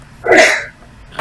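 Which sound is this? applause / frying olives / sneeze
sneeze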